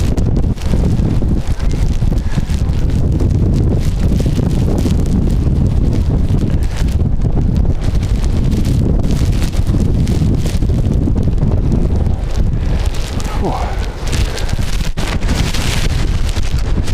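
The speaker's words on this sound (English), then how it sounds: "Didn't expect it to be a windy one like this." Strong, gusty wind blows at Edinburgh Airport in wet weather, roaring and buffeting the microphone steadily and loudly throughout, with no one talking.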